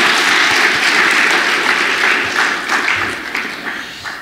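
Church congregation applauding during an Easter worship service, a dense, loud and steady wash of clapping that holds throughout and tapers slightly toward the end.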